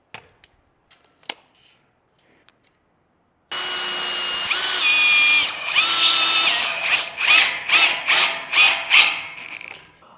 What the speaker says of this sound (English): So this is a step drill bit.